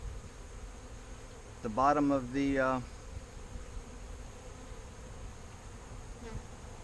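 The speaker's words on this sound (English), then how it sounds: "The bees are actually going to go into the bottom of the" Bees buzz at a beehive in a steady, soft drone, with a brief louder wavering tone near the middle standing out over the ongoing hum.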